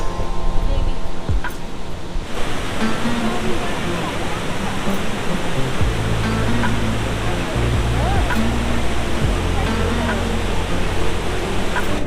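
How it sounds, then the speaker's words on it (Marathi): Davis Falls in Pokhara, Nepal, roars continuously, a dense wash of rushing water filling the scene, with faint voices barely audible beneath it. "हे आहे देवीस वॉटरफॉल"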